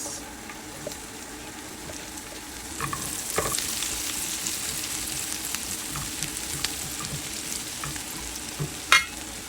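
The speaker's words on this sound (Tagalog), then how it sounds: "Ngayon, maggisa na tayo ng bawang. So ayan, lagay na natin yung ating sibuyas." Garlic and onion sautéing in a pan for chicken biryani, a soft continuous sizzle with occasional clinks and scrapes of a utensil and a sharper crackle near the end.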